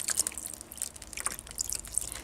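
Broth is poured into a pot over meat, giving soft, uneven drips and splashes of liquid close by, fairly quiet, with no talking.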